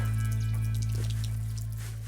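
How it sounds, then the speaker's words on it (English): Water runs from a well spigot in Nairiri, Africa, into a 5-gallon drum, a steady close splashing pour over a low constant hum, with the pitch shifting slightly as the drum fills. "It took me about a minute to fill this 5-gallon drum."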